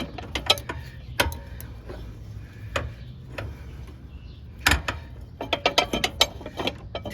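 Metal clicks and ratcheting ticks from a socket wrench loosening a 14 mm bolt on the rear wheel of a Honda GL1500 Goldwing motorcycle, in irregular bursts of sharp taps close by with no talk.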